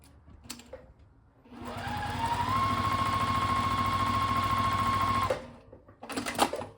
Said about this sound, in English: So I'm going to stitch that down.